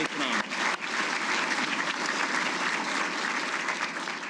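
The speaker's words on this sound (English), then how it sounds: "I would ask you to offer them a round of applause." Steady, dense applause from a crowd at a Hall of Fame ceremony, sustained at an even level throughout with no voices standing out.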